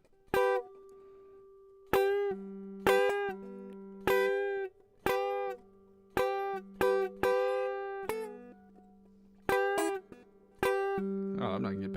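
An electric guitar plays a riff of repeated plucked notes with a bend, each attack sharp and decaying over a sustained low note, loud and close with no talking.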